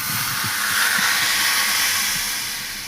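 Hot tempering with curry leaves hits a pot of dal, releasing a loud, steady close sizzling hiss that swells slightly and then eases toward the end, with no talking over it.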